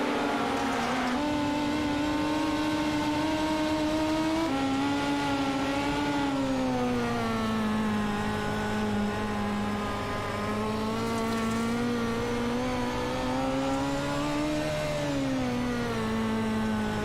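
Dirt midget race cars in iRacing roar continuously, a steady high-pitched engine drone with several cars' tones overlapping and rising and falling through gear changes, loud and without pause.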